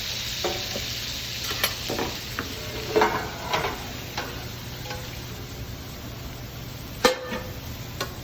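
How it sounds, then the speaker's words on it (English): Currywurst sausage browning in olive oil in a pan over raised heat, a continuous soft sizzle broken by occasional spatula scrapes and knocks, close and moderately quiet with no talking. "Brooke is just going to brown this up. We'll turn the heat up a little bit. Slowly brown it carefully."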